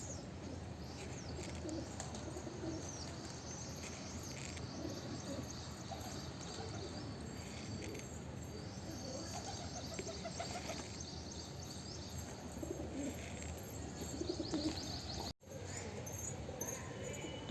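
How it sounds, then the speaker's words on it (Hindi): Pigeons coo softly in a steady low murmur over an outdoor backdrop, with a constant high hiss running throughout and no talking. "और देखिए बाहर से भी कबूतर आने लगे"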